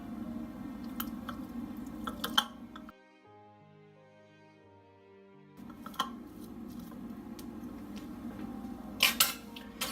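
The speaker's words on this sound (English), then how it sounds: "Now we'll start the preparation by mashing eggs." Soft squishing and light taps of boiled eggs being mashed for egg salad, in a few short, faint bursts with quiet tonal background music between them.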